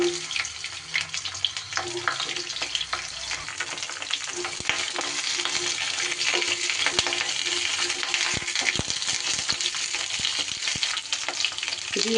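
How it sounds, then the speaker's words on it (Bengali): Pointed gourd (potol) frying in hot mustard oil, a dense continuous sizzle and crackle close by, with faint clicks of a utensil scattered through. "তেল গরম হলে এবার পটলগুলো আমি ভেজে নেব"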